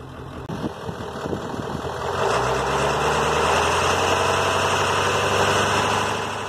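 A truck engine with an intercooler setup starts up after a few uneven bursts of noise, then settles into a steady, close, droning idle that holds evenly to the end.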